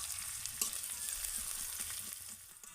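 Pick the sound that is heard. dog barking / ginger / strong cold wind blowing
ginger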